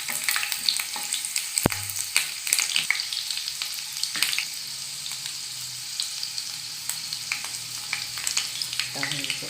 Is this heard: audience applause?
no